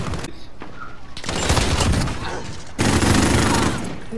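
Loud multiplayer video game gunfire rattles in dense, rapid bursts, rising into a heavier barrage of automatic shots near the end.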